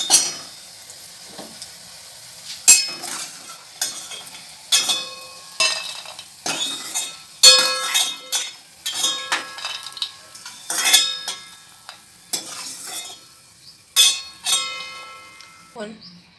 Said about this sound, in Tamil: இப்போ நம்ம சுண்டை வத்தலை நம்ம வறுத்து எடுத்துக்கிட்டோம்